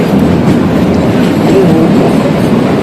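The Kalka–Shimla toy train runs along its mountain tracks, a loud continuous rumble of wheels and carriages with faint rhythmic clatter and occasional thin squeals, steady throughout.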